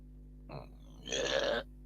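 A single burp from a person, with a short low grunt-like onset and then a longer, louder, rough belch lasting about half a second, close up in a quiet room.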